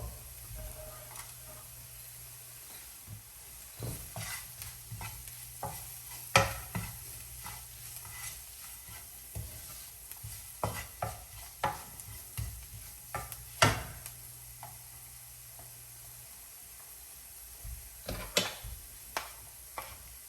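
Bell pepper sizzles quietly in a pan for Spanish rice, a faint steady frying hiss broken by scattered spatula clicks and scrapes, close but soft, with a low hum in the background.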